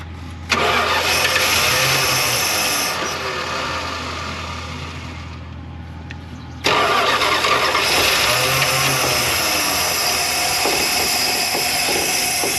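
An abandoned van's engine cranks and catches, runs roughly, dips toward a stall and then revs back up to a steady loud idle, close by and with no talk.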